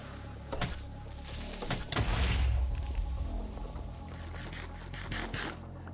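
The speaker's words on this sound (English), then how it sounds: "That was a pretty big explosion." A big explosion in a video game, a deep booming blast swelling near the middle among scattered sharp bangs and crackles, fairly quiet overall.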